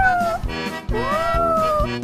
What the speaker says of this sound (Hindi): चिंकी, देखो ये बिल्ली का बच्चा कितना प्यारा है।